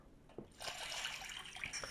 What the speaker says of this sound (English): And then I can refill my water bottle here.